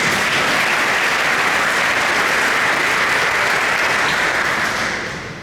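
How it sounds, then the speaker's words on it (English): Steady, loud audience applause for elected officials at a quarterly development series event, a dense wash of clapping that holds for about five seconds before fading at the end. "So let's give a round of applause for all of our elected officials."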